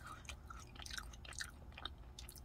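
Faint, close chewing of a chewy Subway macadamia white chocolate cookie, soft irregular bites and mouth sounds without any talk.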